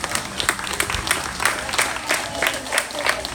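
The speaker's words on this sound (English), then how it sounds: "Let's give these guys a big round of applause." Spectators at a pig-showing livestock event give a brisk round of applause, loud rhythmic clapping with distinct hand strikes, close and sustained through the clip.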